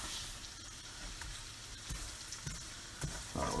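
Garlic and shrimp sizzle in a hot pan for shrimp scampi, a steady close frying hiss with a few brief louder spits and crackles.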